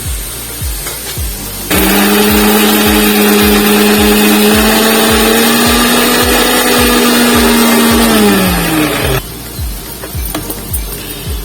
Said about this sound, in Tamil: இஞ்சி, பூண்டு இதை நம்ம இப்போ கொஞ்சம் குறைன்னு அரைச்சிட்டு வந்தோம்